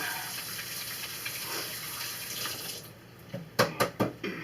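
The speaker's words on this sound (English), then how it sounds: "And I'm going to wash my hands again." Hands are washed under a running kitchen tap during home canning of pork loin roasts: a steady hiss of flowing water, then a few sharp knocks and splashes near the end.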